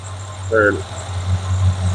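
A 1978 Plymouth Volare's 318 V8 engine idles close by with a steady, low, even rumble, and a brief chirpy sound rises over it partway through.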